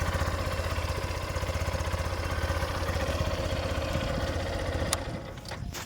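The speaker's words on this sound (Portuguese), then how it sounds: "Agora se eu der na partida, ligou a moto." A Yamaha Factor 150cc motorcycle engine idles just after being started, a close, steady low chugging with a fast even pulse that settles slightly near the end.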